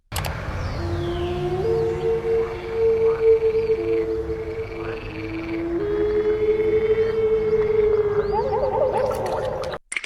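A slowed-down lone bird call used as a Spinosaurus roar rumbles in deep, gurgling, croaking swells with a wavering tonal moan across about ten seconds, loud and unaccompanied before cutting off abruptly.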